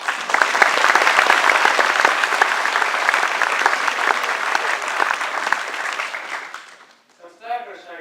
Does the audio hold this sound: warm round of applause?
yes